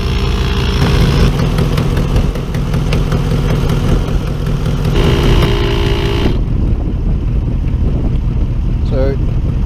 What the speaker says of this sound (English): we'll see how long it takes to pump the one tyre up